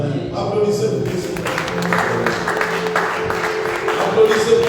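A church congregation applauds for Jesus during a worship service, with sustained, dense clapping running steadily throughout, mixed with voices.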